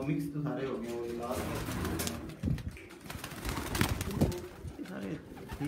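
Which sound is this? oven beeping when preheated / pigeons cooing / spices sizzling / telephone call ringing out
pigeons cooing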